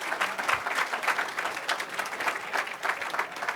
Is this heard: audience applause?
yes